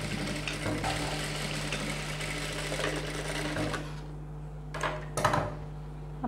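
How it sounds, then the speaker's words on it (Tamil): A sewing machine stitching cloth at a half-inch seam hums steadily at close range for about four seconds, then stops, followed by a few short clacks and shifts. "1/2 இன்ச்சில் ஸ்டிச் போட போகிறேன்"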